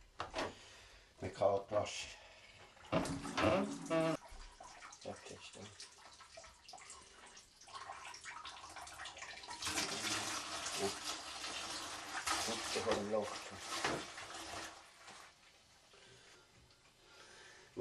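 Cold water runs into a container in a rustic alpine setting, coming in uneven gushes and splashes with knocks and rubbing between them, while people talk quietly close by.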